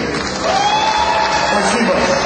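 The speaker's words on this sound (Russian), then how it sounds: "Аплодисменты." Continuous audience applause and cheering at a boxing event during a boxing-glove auction day, a steady wash of clapping from a large crowd filling the whole stretch.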